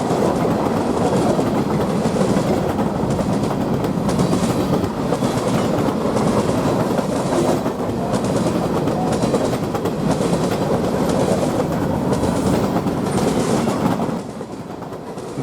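A Wisconsin & Southern Railroad grain freight train rolls past at night near Chicago, a loud, steady rumble with rhythmic clickety-clack of wheels over rail joints that continues strongly before easing off near the end.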